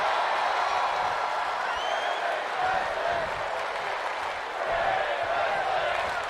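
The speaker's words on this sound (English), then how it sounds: "The crowd chanting women's wrestling" A wrestling event crowd roars and chants steadily throughout, a dense, continuous wash of many voices filling the arena with no pauses.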